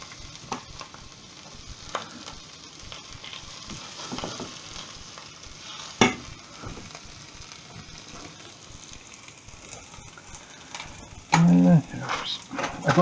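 Vegetables soften in a pan over medium heat for linguine with prawns, giving a steady, close sizzle with scattered stirring scrapes and clicks, then a louder clunk toward the end.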